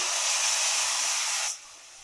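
Ground spices with ginger-garlic powder and sabzi masala frying in a pan for a papad curry, a steady loud hiss that cuts off abruptly near the end, leaving quiet.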